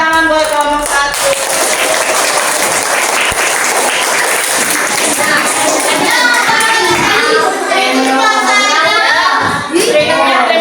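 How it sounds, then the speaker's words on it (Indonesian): A classroom of students applauds for a winning group, dense continuous clapping filling the room from start to finish, close and loud with no talk over it. "Tepuk tangan buat kelompok 1."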